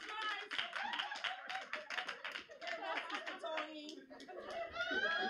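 Church congregation clapping in quick, uneven bursts, mixed with voices, laughter and lively talk through the whole stretch.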